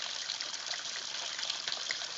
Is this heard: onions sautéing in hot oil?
no